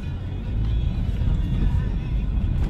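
Car engine and road rumble from inside a moving Toyota Avanza on a road test, with a stiff brake pedal that suddenly sinks, steady low droning with a faint voice over it.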